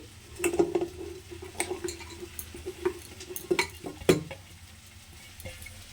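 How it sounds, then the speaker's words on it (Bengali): Red lentils go into a metal pressure cooker, giving close, scattered clinks, rattles and scrapes of utensil on pot, fairly quiet with short gaps. "তো আমি প্রথমে কুকারের মধ্যে ডালটাকে দিয়ে দিচ্ছি"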